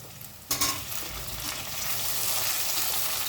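Tomatoes drop into a pan of frying onions for vegetable biryani, a soft thump followed by steady, close sizzling and stirring that grows slightly louder, with no talk.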